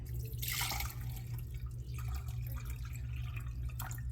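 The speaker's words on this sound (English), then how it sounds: "Put tap water on it." Tap water pours into a container holding a farm-fresh egg in a home kitchen, a faint, splashy trickle that comes in a few short bursts against quiet background noise.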